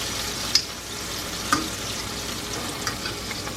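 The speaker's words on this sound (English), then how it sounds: "If you're frying large batches of this beef" Beef steak slices sizzle steadily in hot oil with a constant crackling hiss, punctuated by a couple of sharper pops and clinks, no talking.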